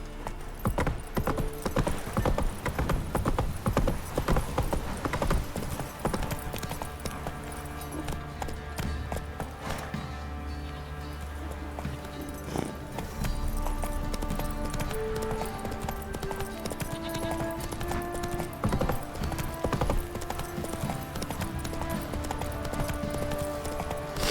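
Geralt's horse Roach clip-clops steadily across ground in The Witcher 3, a brisk close rhythm of hoofbeats over game music, with a brief whinny.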